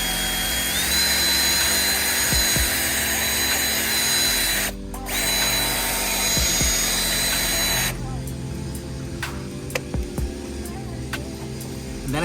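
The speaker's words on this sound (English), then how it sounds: "Take my drill brush" A drill-driven brush agitates car interior upholstery during shampooing, giving a steady motorized whir with a few short pauses and grinding scrubbing textures, close and loud throughout.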